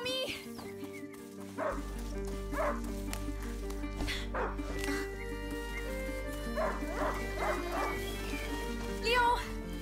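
A hunting dog barking in the video game A Plague Tale: repeated sharp barks and yips over a low ambient drone, with talk in between.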